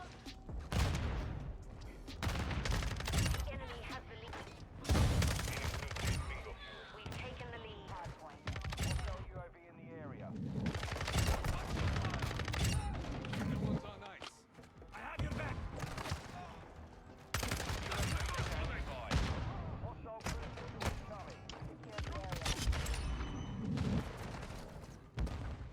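Gunfire in Call of Duty Modern Warfare 2 crackles in dense, rapid bursts and repeated shots throughout, with booming impacts mixed in, while players talk over the action.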